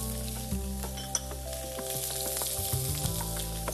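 Corn kernels, then chicken pieces, go into hot tempered oil with cumin seeds and curry leaves for a non-veg soup, setting off a steady close sizzle with faint clinks and a low hum beneath, no voices.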